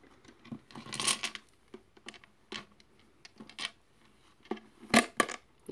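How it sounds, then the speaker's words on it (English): Tarot dice being handled and rolled, a scattered series of sharp clicks and rattling taps with quiet gaps between, close and fairly soft, with no talking. "These are called tarot dice."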